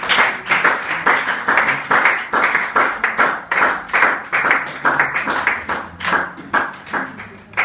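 A church congregation claps in a steady, rhythmic beat, loud and close, sharp hand claps repeating roughly twice a second throughout.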